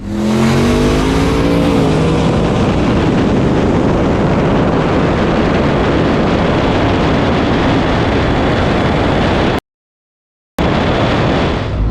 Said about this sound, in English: It's a good drag race.